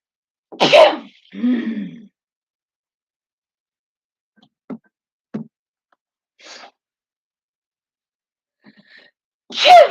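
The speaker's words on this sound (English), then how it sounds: "Let me just keep sneezing" A loud sneeze rings out, followed by a shorter second burst, a few faint clicks and scuffs, then another sharp sneeze at the end.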